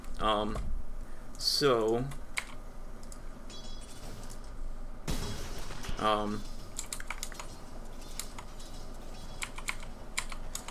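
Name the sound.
computer keyboard and mouse being used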